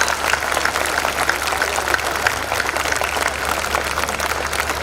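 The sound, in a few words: audience applause for the poet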